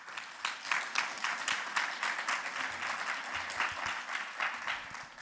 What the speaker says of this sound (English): welcome them with a big round of applause